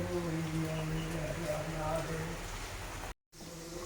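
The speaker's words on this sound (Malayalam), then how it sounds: "പുറത്ത് നല്ല മഴക്കോളും ചെറുതായിട്ട് മഴ പെയ്യുന്നുണ്ട്" Light rain falls outside on a cloudy, overcast morning as a continuous, even patter and hiss. A low hum sits underneath, and the sound cuts out briefly near the end.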